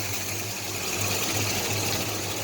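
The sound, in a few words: 1969 Dodge Charger headlight cover motor opening the flap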